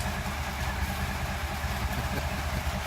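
A motorbike ticks over at idle, a steady low rumble that carries on without break, close by and with no talking over it.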